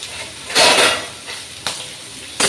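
Potatoes frying in oil in a pan on a gas stove, heard as bursts of close sizzling and stirring with a few sharp clinks of a utensil against the pan between quieter stretches.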